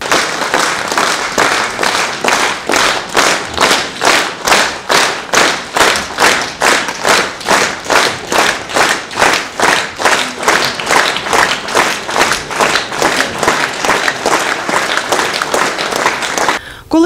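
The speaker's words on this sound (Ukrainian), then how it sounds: "Овації ще не стихають." A theatre hall audience gives a standing ovation in rhythmic unison, loud synchronized claps pulsing about twice per second for the whole stretch at a farewell ceremony.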